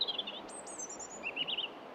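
A wild bird calls near a garden bird table in rural Wales: a few bright, high chirps and short twittering phrases, moderately close, over a soft, steady outdoor hiss with no voices.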